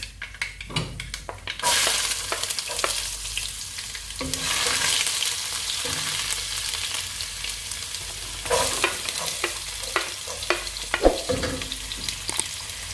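Garlic, finely chopped ginger and curry leaves sizzle in hot oil for mango pickle, with steady frying hiss and repeated scraping stirs of a spoon against the pan, no talking.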